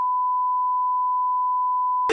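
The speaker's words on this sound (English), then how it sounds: "Can we find a way to bleep that?" A steady, unbroken censor bleep tone holds for about two seconds, clean and loud, then cuts off into a brief burst of voices.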